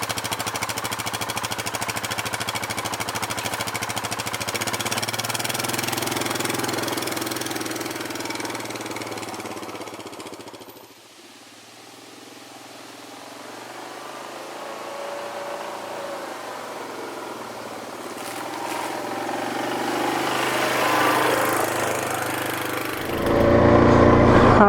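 An ATV engine runs steadily while riding a trail, a loud continuous drone that dips briefly mid-ride before building again, with a sharp surge of revs near the end.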